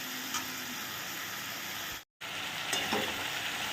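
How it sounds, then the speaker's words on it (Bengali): Spice paste and cabbage are sautéed in a pan, giving a continuous close frying hiss with occasional stirring scrapes, cut by a brief silent gap midway before the sizzle resumes. "এবার এটা এর মধ্যে দিয়ে আবারও কষাবো"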